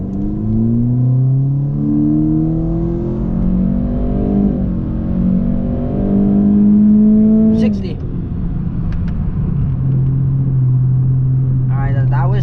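A 2019 Honda Civic Sport with a K20C2 engine and CVT accelerates hard from 0 to 60 through paddle-shifted steps. The engine note climbs in pitch, drops abruptly at each shift, then settles into a lower steady drone, loud from inside the car.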